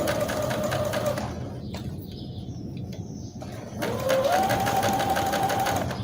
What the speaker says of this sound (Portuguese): Entro com a agulha, dou um retrocesso e vou costurando.